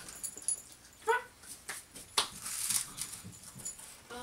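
Dogs whimper and yip in a home, brief high whines and small yelps scattered over a few seconds, fairly close but quiet.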